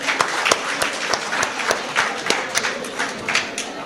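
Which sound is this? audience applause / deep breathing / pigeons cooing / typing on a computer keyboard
audience applause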